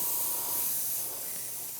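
An airbrush sprays white paint onto a black piece in a steady, soft, close hiss with no talking over it.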